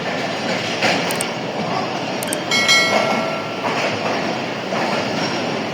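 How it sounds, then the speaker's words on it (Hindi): The Hazara Express departing platform 3 at Rawalpindi station, with a steady broad rumble of rolling railcars and clattering wheels, brief metallic clanks and a faint squeal, loud and close throughout. "हज़ारा एक्सप्रेस की रवानगी का।"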